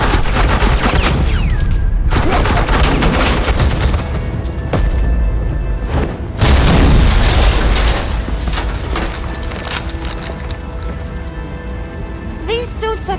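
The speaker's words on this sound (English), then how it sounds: "Suppressing fire." Rapid suppressing gunfire in the Batman: The Enemy Within video game, dense crackling bursts of shots that rise and fall over about thirteen seconds and at times drop away briefly.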